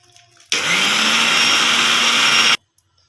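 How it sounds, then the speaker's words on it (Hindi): A mixer grinder whirs loudly and steadily for about two seconds, grinding soaked rice for Makar Jao, a Makar Sankranti dish, starting and stopping abruptly with no talk. "एबे चलो ग्राइंडिंग करिबा।"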